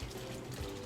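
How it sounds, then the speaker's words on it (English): Gefilte fish broth pours off in a steady, close liquid stream for under a second, a continuous watery trickle with no voices. "We want to pour off some of the broth,"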